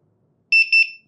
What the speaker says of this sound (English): You will hear a beep sound.